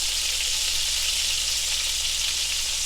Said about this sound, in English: So the pork chops have only been cooking maybe about a minute